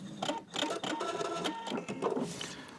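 A sewing machine runs a straight stitch along a long seam in denim jeans, a steady fast mechanical whirring and clatter heard close up with no talking.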